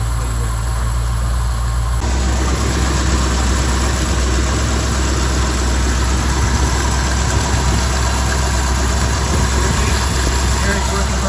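A 1955 Buick engine idling after a stalling problem was fixed: a loud, steady, close rumble with a constant low drone throughout and no talking.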